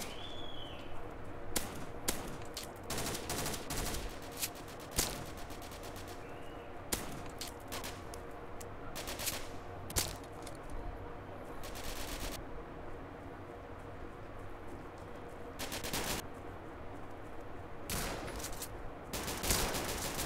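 Gunfire in the shooter game Kuboom, sharp shots fired repeatedly in irregular bursts, some single cracks and some rapid volleys, loud over a steady hum of game ambience with no talking.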